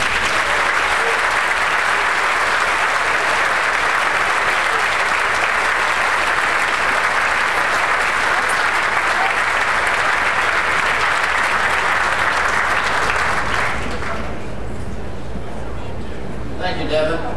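An audience at the Detroit Science Center gala gives Jack Roush a loud, sustained round of applause, with a crowd's dense clapping holding steady before tapering off near the end.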